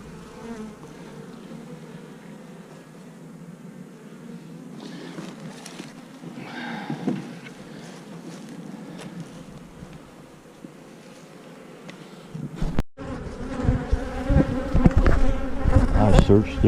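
Honey bees buzzing on a food frame pulled from a hive, a steady close drone that swells louder toward the end, with wind rumble and no talk.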